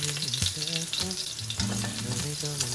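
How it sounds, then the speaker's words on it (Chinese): Garlic sizzling in hot oil in a wok, a steady loud fry with scraping stir strokes cutting through, with background music throughout. "接着放入蒜头爆香"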